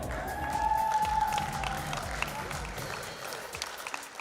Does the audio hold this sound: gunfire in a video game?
no